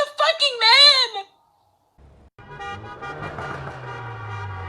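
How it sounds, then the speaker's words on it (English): Car horns honk at a crowded protest in front of the Capitol: sustained horn tones with engine noise rise after a brief silence, preceded by loud wavering voice-like sounds, with people audible in the background. "Honking horns, revving engines."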